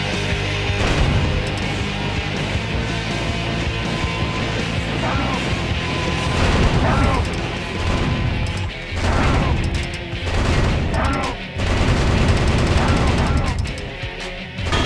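Light firearms gunfire in Metal Wolf Chaos XD, blasting a prisoner cage in San Francisco: dense, loud bursts of shots and crashing impacts layered over a constant game soundscape, with brief lulls between volleys.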